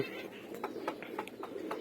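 Pet pigeons, a flock of males, females and young birds, coo softly in a repeated low rhythm at a moderate distance against faint background noise.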